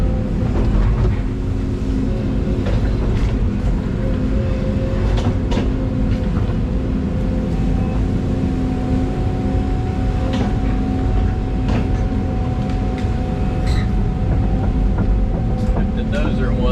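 A skid steer runs steadily up and down a fence line during land clearing, its engine a loud, continuous rumble that stays close and constant throughout without pause.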